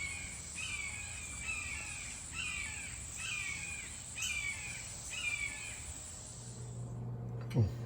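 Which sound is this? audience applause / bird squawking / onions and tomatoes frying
bird squawking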